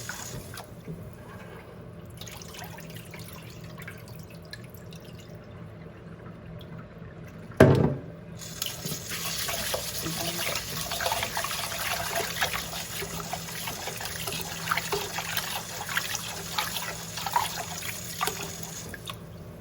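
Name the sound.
tap water running while rinsing rice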